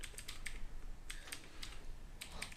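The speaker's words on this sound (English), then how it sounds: "I'm typing this manually, so I hope I don't screw it up." Typing on a computer keyboard comes as quick, light clusters of key clicks with short pauses between bursts, faint and close with no talking.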